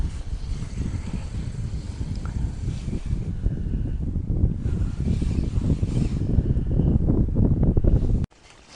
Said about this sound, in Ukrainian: Все йшло чудово, але зіпсував вітер.